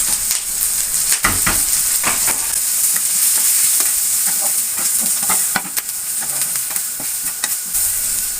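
Garlic and onion frying in a pan with ground masala for a pickle, with a steady loud sizzle and hiss, broken by scraping stirs and spoon taps against the pan, close up and with no voices.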